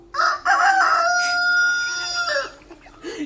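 A rooster crows once nearby, a loud drawn-out call lasting about two seconds and trailing off, followed by a brief softer squawk.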